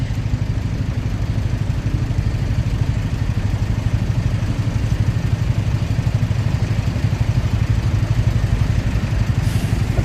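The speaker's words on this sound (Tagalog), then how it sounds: "Ayun, traffic." Motorcycles idling in slow traffic on a bypass in the Philippines: a loud, continuous low engine rumble with a steady throb, close up and without talk.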